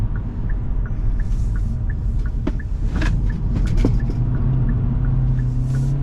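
A 2023 Kia Forte GT Line driving down the road, heard from inside as a steady low rumble of engine and tyres with a faint repeating tick and a few light rattles.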